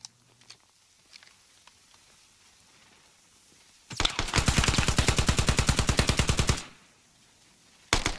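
A PPSh submachine gun unloads a single sustained close-quarters burst in a video game, rapid evenly spaced loud shots lasting under three seconds, preceded by quiet ambient background and ending abruptly.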